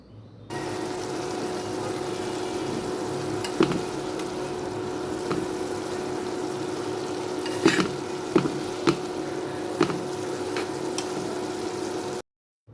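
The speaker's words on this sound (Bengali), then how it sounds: "ঢাকনা উঠিয়ে নিয়ে জল শুকিয়ে ভালোভাবে ভেজে নেব" Bitter gourd fries steadily in a pan after the water has cooked off, a continuous close sizzle with a few sharp clicks and scrapes of stirring, with no talk over it.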